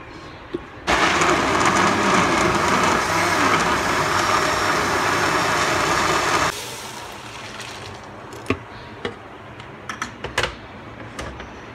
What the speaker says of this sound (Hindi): अब मैं इसको ग्राइंड करती हूँ।